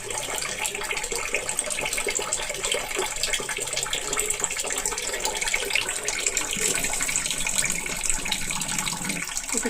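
Chana dal being rinsed under a running tap, a loud, continuous rush and splash of water held steady throughout, with no voices.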